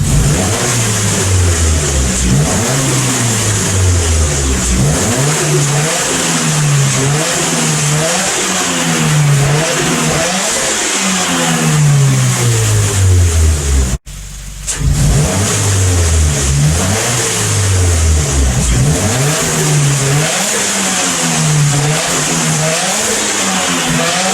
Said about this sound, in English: just revving it in the garage